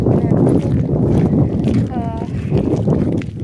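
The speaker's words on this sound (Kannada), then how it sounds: "ಗಾಳಿ ಇದೆ ಪರವಾಗಿಲ್ಲ, ಬಟ್ ಬಿಸಿಲು ಮಾತ್ರ ಸಖತ್ತಾಗಿದೆ ನೋಡಿ" Steady wind buffets the microphone in a continuous low roar on an open, sunny tomato farm, with a voice briefly heard over it.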